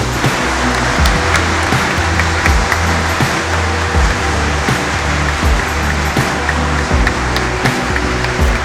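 Wedding guests applaud newlyweds at a Polish ceremony, a dense, loud, steady wash of clapping with no talking.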